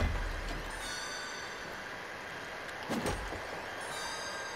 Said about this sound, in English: Head to platform 5. There's a train waiting for you there.